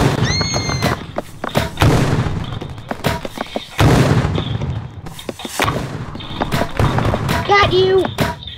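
Gunfire in a Roblox match rings out as a rapid series of sharp bangs and thumps with ringing tones, while a player talks excitedly over the shots.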